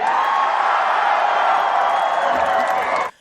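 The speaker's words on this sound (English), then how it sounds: "Listen to that crowd." A concert crowd cheers and roars in a played-back live recording, a dense continuous wall of noise that holds steady, then stops abruptly.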